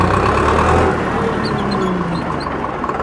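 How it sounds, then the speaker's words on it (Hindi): Digitrac PP 46i tractor engine running at idle rpm in fourth gear, a steady low mid-range rumble that stays loud and even throughout. "ये फोर्थ गियर आइडल आरपीएम पर भी ट्रैक्टर चलने लग रहा है"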